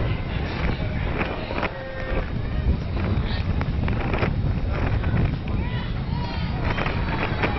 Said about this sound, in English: Get a real sense from that center field shot just how windy it's getting.